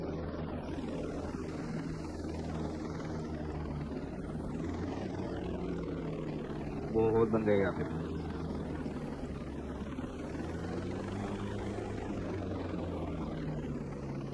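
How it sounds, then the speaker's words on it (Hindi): A helicopter in the video game Ghost Recon Breakpoint whirs as a steady low rotor drone throughout, with a brief louder burst midway and a short spoken remark over it. "यहाँ पे एक हेलीकॉप्टर ऑलरेडी है, वो नीचे भी हेलीकॉप्टर है।"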